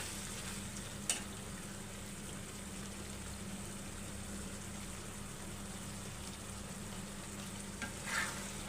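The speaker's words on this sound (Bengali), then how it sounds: "লবণটাকে দিয়ে ভালো করে নাড়াচাড়া দিয়ে দিচ্ছি" Dried lotiya fish and potato curry being stirred in a pan, a steady low sizzle and scraping texture running throughout with a couple of brief louder clinks, no talking.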